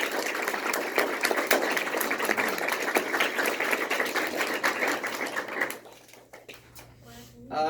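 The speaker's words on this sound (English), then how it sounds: "Please give them a round of applause." A crowd applauds the graduates at Rowen's high school graduation ceremony, with dense, loud, sustained clapping for about six seconds before it dies away into a quieter room.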